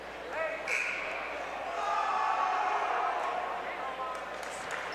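A home crowd at a Davison boys basketball game against Lapeer in a gym, roaring and jeering steadily through a technical-foul free throw, swelling in the middle before easing slightly, with a few sharp shouts rising above the broad din.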